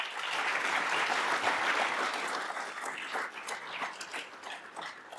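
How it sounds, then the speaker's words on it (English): An audience at a 2024 kickoff event gives a round of applause, broad and steady clapping that fills the room, loud at first and then slowly thinning toward the end. "So let's give Meagen and Larry a big round of applause."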